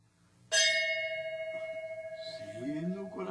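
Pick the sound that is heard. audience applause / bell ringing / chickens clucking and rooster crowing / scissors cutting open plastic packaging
bell ringing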